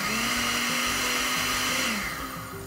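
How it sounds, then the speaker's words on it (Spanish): Blender whirring steadily as it mixes a rice water drink with ground cinnamon, a loud close motor hum that eases down near the end of a short burst. "Vamos a licuar."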